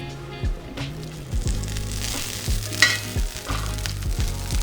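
Butter sizzles and crackles steadily in a frying pan with rosemary and thyme while walleye cooks, a close, continuous hiss with repeated scraping stir strokes and small pops.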